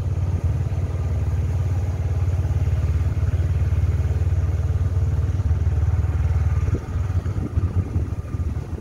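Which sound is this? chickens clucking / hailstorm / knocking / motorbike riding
motorbike riding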